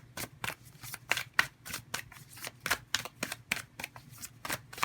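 Tarot cards being shuffled by hand in a quick, uneven rhythm of sharp riffling flicks and soft slaps, close and fairly quiet, with no talking.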